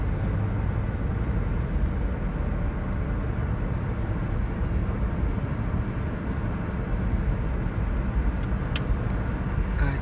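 A car drives slowly along a fog-covered road near Santa Barbara, California, giving a constant, even low rumble of engine and tire noise with no voices and no change in level throughout.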